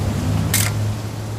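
An old camera takes a picture in the video game What Remains of Edith Finch: a single crisp shutter click stands out over a low humming background.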